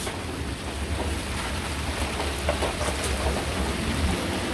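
Steady rain pours down outdoors in a village during a cloudy spell, a dense, even hiss of drops striking surfaces nearby with no voices.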